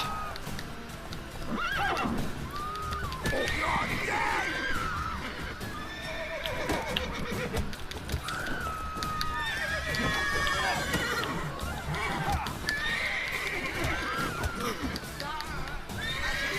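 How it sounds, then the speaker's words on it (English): Horses neigh and whinny repeatedly over steady clip-clopping hooves in The Witcher video game, with dense overlapping action noise throughout. "The horses were crazy."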